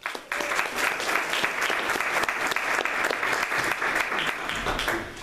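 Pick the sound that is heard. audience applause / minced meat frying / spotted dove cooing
audience applause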